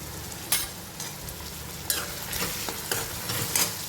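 Chili powder being stirred into cabbage pav bhaji frying in a pan: a steady sizzle with repeated scraping stirs at a close, moderate level.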